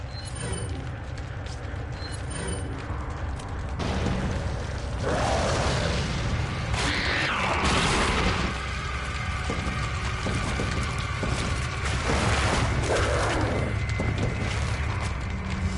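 Incendiary grenade going off in Resident Evil 4, a burst of booming, crackling fire with rumbling, mechanical game noise and several surging whooshes of flame over a steady loud background.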